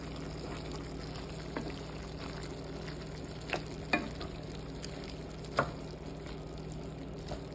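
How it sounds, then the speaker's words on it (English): Chopsuey vegetables with oyster sauce being stirred in a sizzling pan, a steady low frying hiss with a few faint utensil scrapes and clicks, close and soft, no voices. "Now I'm gonna mix it."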